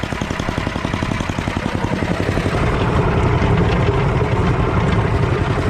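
A Yardman 8HP Tecumseh Snow King 26-inch snowblower engine idles close by, its steady rapid chugging pulse loud and continuous with a slightly rough vibrating edge from a suspected impeller shaft fault.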